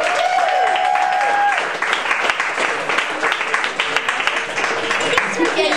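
Audience applause welcoming a reader to the stage at a book reading, a loud dense burst of clapping that thins into scattered claps, with a brief tone early on and voices murmuring beneath.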